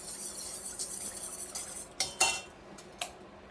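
Beef noodle soup ingredients being stirred in a pot, a soft continuous scrape followed by a few distinct utensil knocks against the pot toward the end.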